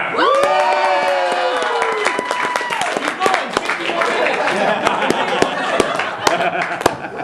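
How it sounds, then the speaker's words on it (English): A comedy club audience breaks into loud applause mixed with cheers and whoops, dense clapping sustained throughout with shouting voices on top at first. "that was when people enjoy something, they clap"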